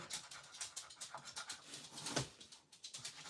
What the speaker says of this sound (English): I don't know if you hear the clicking noise, but that's my dog, Jack.